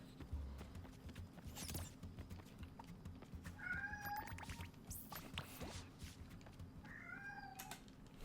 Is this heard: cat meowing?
yes